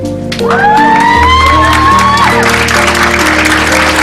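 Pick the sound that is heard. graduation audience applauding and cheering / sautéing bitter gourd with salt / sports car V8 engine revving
graduation audience applauding and cheering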